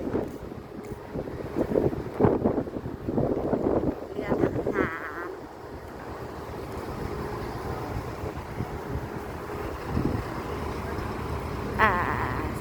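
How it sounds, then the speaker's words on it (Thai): Wind at sea beside a large ship rushes and buffets against the microphone in a steady, gusty roar, with brief voices and scattered knocks mixed in. "ประมาณนี้อยู่ทะเลอยู่กับเรือลำใหญ่ ๆเก็บภาพเรือ"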